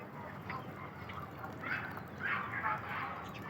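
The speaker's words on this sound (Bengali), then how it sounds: "এখানে বিভিন্ন রকম হাঁস আছে," Several kinds of ducks at a rural duck farm call on a rain-damp day, a few faint, distant quacks and honks rising over soft background noise in the second half.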